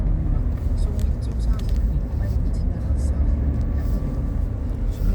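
Small car driving at 55 km/h, a steady low road rumble and tyre noise filling the cabin throughout, with talk over it.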